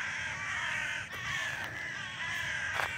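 Crows caw several times in a park in Vienna, harsh calls at mid distance over a steady outdoor hum.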